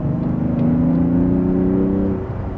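An inline-six car engine hums with a steady low rumble at a constant pace, easing off slightly near the end.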